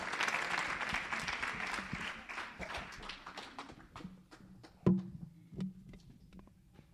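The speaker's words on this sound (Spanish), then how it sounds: "Un aplauso fuerte." A church congregation claps at a Friday service, loud clapping at first that thins into scattered, slowing claps and fades toward the end, with a few sharper thumps near the close.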